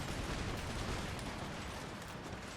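Dense, continuous crackle of massed musket gunfire fills a battle in Empire: Total War, with the Prussian line volleys blurring into one loud, steady roar and no clear gaps between shots.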